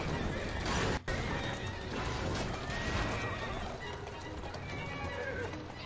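Horse-drawn carriages in the Assassin's Creed Syndicate video game, with horses neighing and hooves clip-clopping amid busy street game sound, one sharp break near the start, continuous and fairly loud throughout.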